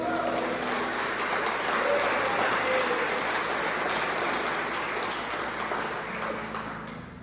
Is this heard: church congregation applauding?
yes